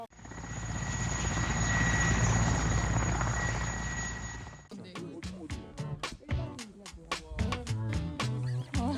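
Helicopter flying over a remote lake in Mongolia, a loud steady rotor and engine roar for several seconds that cuts out abruptly, followed by people talking.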